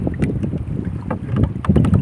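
Strong wind buffets the microphone out on the water from a paddled boat, a rough continuous roar with scattered knocks and splashes close by.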